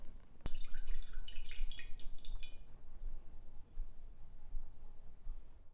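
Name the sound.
pouring hot water into a jar to dissolve borax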